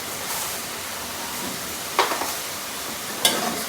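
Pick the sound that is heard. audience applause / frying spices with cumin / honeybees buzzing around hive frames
frying spices with cumin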